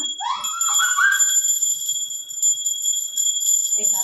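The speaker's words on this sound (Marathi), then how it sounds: "घंटी वाजव ना" A small hand bell rings with a steady, high, bright tone, and a brief voice is heard near the start and the end.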